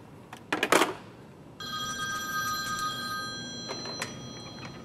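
A telephone rings in a quiet office setting, a steady electronic bell tone that starts abruptly after a few faint clicks and continues for several seconds, fairly close and clear with no talking over it.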